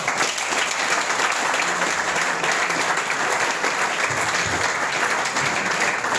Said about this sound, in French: Je vous demande d'applaudir pour le président de la République et le président Jean-Pierre Bemba